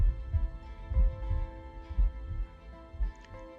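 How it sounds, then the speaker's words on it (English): A low, muffled heartbeat from The Life and Suffering of Sir Brante thumps in slow, regular pairs over a quiet sustained hum, with no voices. "Your own heartbeat is the only sound you can hear."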